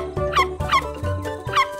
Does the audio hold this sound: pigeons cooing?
no